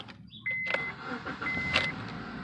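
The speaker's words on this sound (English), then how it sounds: "Once that's done, you should be able to turn your vehicle on" A 2003-07 Honda Accord engine cranks and catches, its rough start rising abruptly and then settling into a steady idle nearby, with a brief second surge of revving.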